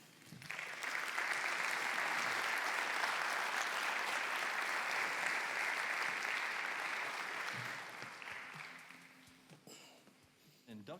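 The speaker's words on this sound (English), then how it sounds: "I want to give you guys a round of applause and say thank you one more time for this award." An audience at a Fintech Hall of Fame induction on a conference mainstage bursts into dense, sustained applause that holds steady for several seconds, then thins and tapers off toward the end.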